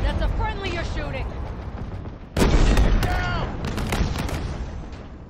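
Rapid bursts of gunfire from the video game Halo Infinite crack and boom in a dense battle, with a sharp loud volley midway and a voice talking over the shooting.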